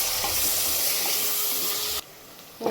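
Onions and green chillies sautéing in a pan, giving a steady close sizzle and hiss with light stirring scrapes that cut off abruptly near the end, leaving quieter frying.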